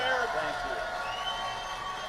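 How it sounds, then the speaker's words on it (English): A live New York theater crowd of Patreon members cheers and claps in a loud, sustained wash of applause and whoops that fills the room for the full stretch. "by round of applause, how many Patreon members are in the house?"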